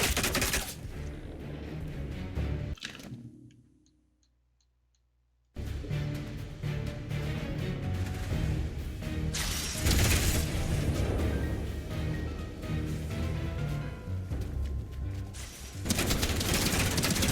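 Sustained gunfire rattles through the Atomfall video game, dense and continuous. It stops for a short near-silent gap, then heavy bursts and background noise resume and carry to the end.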